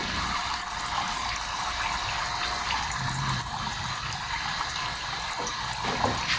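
Steady fresh water showers into a steel catfish hatchery tank, pouring and splashing continuously, a constant hissing spray with no pauses.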